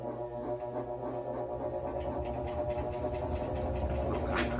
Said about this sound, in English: So this would be the spin, which is spinning normally.